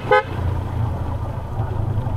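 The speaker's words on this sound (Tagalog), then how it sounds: "Wala natin bumusina kasi baka may biglang sumalubong" A single short car horn toot sounds near on a rough, rain-softened rural road, followed by the low steady hum of the vehicle's engine.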